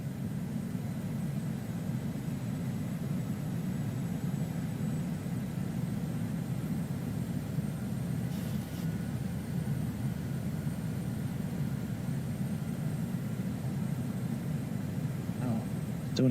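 A PMDG Boeing 737-800 airliner in Microsoft Flight Simulator 2020 drones with a steady, low engine roar and hiss through the cabin during an approach to landing, constant and unbroken.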